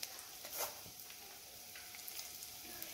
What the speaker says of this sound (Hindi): अब हमारा ऑयल गर्म हो गया है, और इसमें हम 1 टेबल स्पून सौंफ डालते हैं, और 3/4 टेबल स्पून मेथी दाना डालते हैं